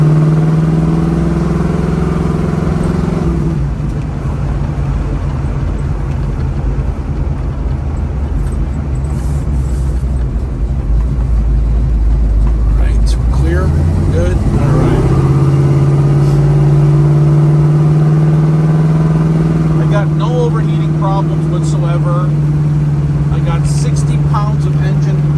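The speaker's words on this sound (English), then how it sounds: "I like going on the freeway to show you guys the car goes through all the gears" A 1971 Pontiac Firebird accelerates up through its gears on a freeway, the engine drone climbing and then dropping at each shift, with loud road noise throughout.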